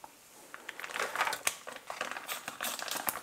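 A plastic bag is crinkled and folded into a pocket in a kitchen while preparing sous-vide pineapple dessert, giving close, dense rustling and crackling with a few sharper crinkles, and no speech.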